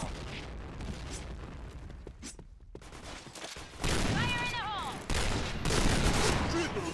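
Video game gunfire crackles in rapid volleys and bursts, loud and close, while people talk excitedly over the shooting.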